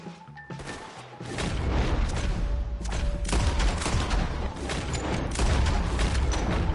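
Heavy gunfire in Red Dead Redemption 2 during a firefight, rapid overlapping shots and loud cracks sustained at close range for several seconds, with no talking.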